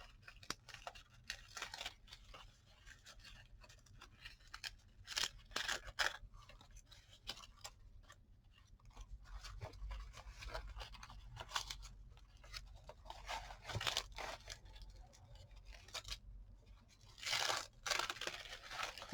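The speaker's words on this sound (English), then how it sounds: "I'm just going to peel that off. See, that there will just peel off quite easily" Bark peeled by hand off a piece of borer-damaged wood: close, crackly tearing and splintering bursts that come in irregular clusters with short pauses, and no talking.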